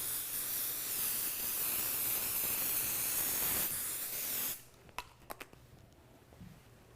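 A long, continuous aerosol spray hisses for several seconds onto quilt fabric layers and cuts off abruptly, followed by quiet clicks and light handling sounds.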